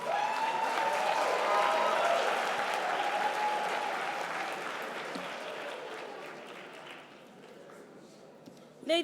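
Audience applause at a university debate final, a dense steady clapping from a large crowd that holds loud for several seconds and then gradually thins and fades toward the end.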